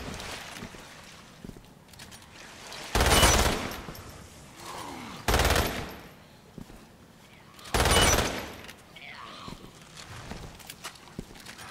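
Gunfire in the shooter Umbrella Corps comes as three loud, separated bursts a few seconds apart, with quieter scattered shots, movement and game ambience in between.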